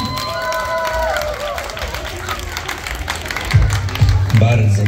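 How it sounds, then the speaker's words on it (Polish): Applause and cheering from a crowd at a street festival fashion show, with hands clapping steadily under a lively background and some low thumps toward the end. "Wielkie brawa dla pani Marii."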